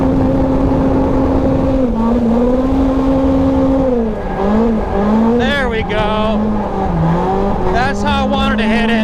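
A Toyota AE86 drift car's engine drones loudly from inside the car on track at a drift series event, with pitch shifts as it revs and lifts, a few squealing bursts, and a voice talking over it.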